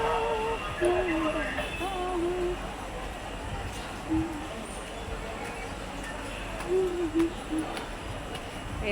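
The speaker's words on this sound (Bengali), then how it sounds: "ওই দেখো ট্রেন যাচ্ছে" A train passes through Nabadwip railway station, its steady rumbling roar filling the scene throughout, with scattered tonal squeals and a voice breaking in now and then.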